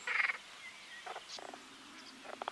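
Green frogs croak from reeds and water in a Dutch polder landscape during mating season, giving short pulsed calls in scattered bursts, fairly faint and at a distance, with no voices.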